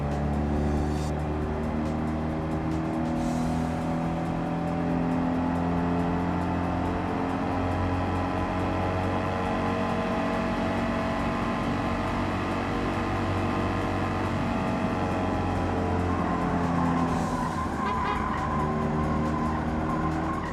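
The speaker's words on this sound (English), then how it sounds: "Next up is the heckin' cute Fiat Panda" Engine of a 29-horsepower Fiat Panda in Gran Turismo 7, a steady buzzing drone with tones rising and falling as it revs up and shifts through gears, with brief tire noises around it.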